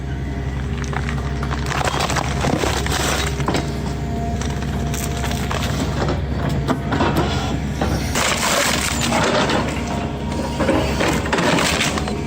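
A Hitachi excavator shearing open wet Northwest tree stumps, with a continuous loud grind of splintering and cracking wood over heavy machinery rumble, dense and unbroken throughout.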